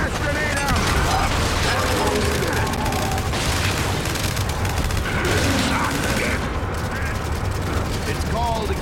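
A blast grenade goes off in Gears 5 amid constant gunfire and booming combat noise, loud and dense throughout with a voice calling out over the action.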